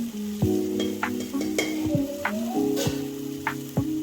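Ginger garlic paste sautés in a hot pan for a home-cooked chicken biryani, giving a steady close sizzle broken by repeated scraping strokes of a spoon and light metallic clinks, with no talking.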